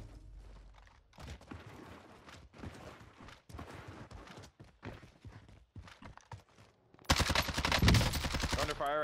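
Call of Duty Warzone match with scattered gunshots and short bursts of automatic fire, distant and moderate at first, then a louder close burst near the end.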